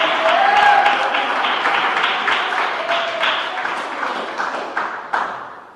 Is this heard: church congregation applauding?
yes